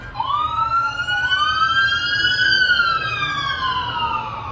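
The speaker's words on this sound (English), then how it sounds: "Here come the sirens." A wailing emergency vehicle siren rises and sweeps across the air over a steady busy-road traffic rumble, loud and fairly close, with no talking.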